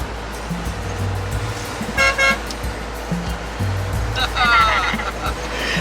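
Combi van horns honk in a couple of short bursts over steady road and engine noise, one nearby and another answering a moment later.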